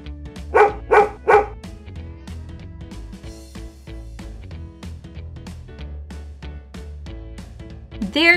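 A dog barks three times in quick succession up close, then the sound settles into a quieter background bed before a final sharp yelp at the end.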